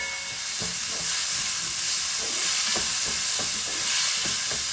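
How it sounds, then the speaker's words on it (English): Tomatoes added to slightly browned onions sizzle and hiss steadily in a hot pan, a close, even frying noise broken by faint stirring scrapes, with no talking over it. "Okay, so now the onions are slightly brown. I'm going to go ahead and add some of my tomatoes, not all."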